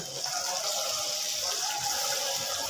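A steady rushing gush of water pours into a spice mixture with yogurt close by, continuous and fairly loud.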